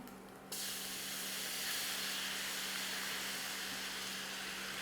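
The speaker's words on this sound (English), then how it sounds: "we are gonna deglaze with a little bit of fortified wine" Chicken pan deglazed with fortified wine, a sudden loud burst of steady hissing steam and sizzle that holds evenly without letting up.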